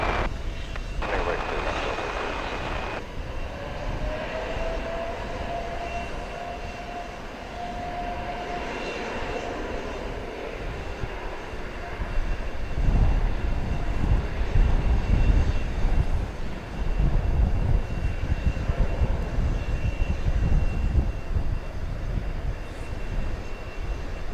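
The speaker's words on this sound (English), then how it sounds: "There's a Turkish flight 192. This is going to Istanbul. It's a Dreamliner -9." A Turkish Airlines Boeing 787-9 Dreamliner jet roars at DFW Airport with a sustained engine rumble that swells louder midway. Radio chatter and a voice talk over it.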